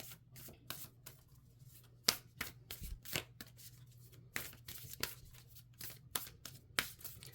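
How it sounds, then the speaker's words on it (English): Oracle cards being pulled and shuffled by hand, giving a series of crisp riffling and flicking bursts in an irregular rhythm, close and fairly quiet over a low steady hum. "So let's pull another card"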